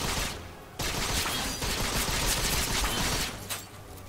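A crossgun in the Vindictus fantasy action game fires continuously during a boss fight: dense, rapid, crackling shots run back to back for several seconds after a brief pause near the start, loud and alone.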